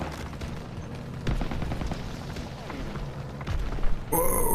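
Explosions and gunfire during a Panzer strike in the Call of Duty WWII campaign, with heavy booms and rumbling battle noise throughout, loud and dense.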